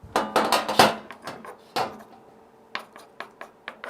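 Vegan cheese is scraped out of a pan: a handful of sharp scraping and knocking strokes, loud in the first second and then sparser, quieter taps, with no talking.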